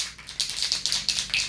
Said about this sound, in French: Donc toujours bien agiter la bombe.